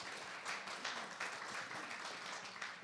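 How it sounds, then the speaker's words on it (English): An audience at a talk on menopause and women's midlife health gives a round of applause, a faint, steady patter of many hands clapping for about three seconds. "Can we give a round of applause to you guys?"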